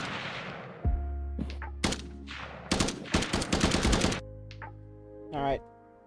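Gunfire in a top-down shooter video game: sharp single shots and quick rattling bursts, loud and close, over a low humming game drone that shifts pitch between the volleys.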